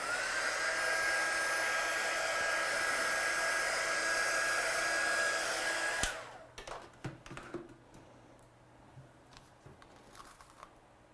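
A dryer blows on a stamped watercolour card, a loud, steady whir for about six seconds that cuts off abruptly. Light rustling and small taps follow as the card is handled.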